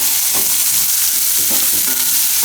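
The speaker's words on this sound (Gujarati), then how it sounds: "થોડીક વાર ડુંગળી પકાવી લઈએ." Onions cook in a pan for dahi poha, giving a loud, constant frying hiss with a few soft stirring scrapes rising out of it, close up and with no talking.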